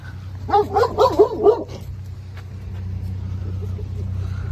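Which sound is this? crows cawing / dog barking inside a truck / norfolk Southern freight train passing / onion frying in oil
dog barking inside a truck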